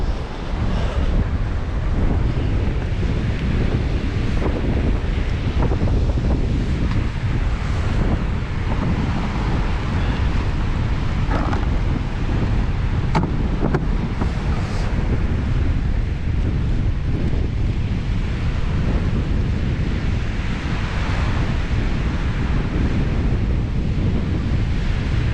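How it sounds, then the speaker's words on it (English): Constant wind roars and buffets the microphone on Parton Beach by the sea, with surf rumbling underneath in a dense, unbroken wash of noise. "I want to stay out the wind as well."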